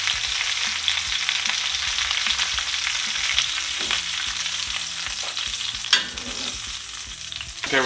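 Garlic-crusted lamb loin chops frying in a pan as a second batch, a steady close sizzle and crackle with occasional louder spits and pops, no voices.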